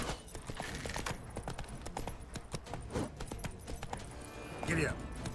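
A horse gallops in The Witcher 3, giving fast, repeated hoofbeats at a steady rhythm under quiet game ambience, with a voice speaking briefly over it.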